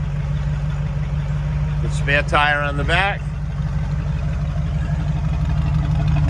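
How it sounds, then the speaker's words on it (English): A stock 1979 Jeep CJ-7 with a V8 and quiet stock dual exhaust idles in a steady, deep burble right nearby, while someone talks briefly over it. "This is the quiet exhaust. So this is stock with not too loud, but it still sounds like a good little muscle car hot rod."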